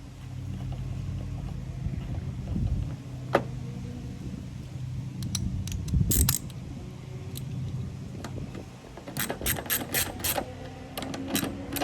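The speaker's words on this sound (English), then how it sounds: "You're just gonna tap it in place, put your screws on." Screws being driven in on a Toyota Camry taillight, with a low mechanical hum and scattered sharp clicks and ratcheting taps, moderately close and without talk.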